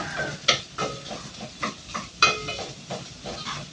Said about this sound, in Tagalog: Hayaan lang po natin mag golden brown yung mga sibuyas at bawang.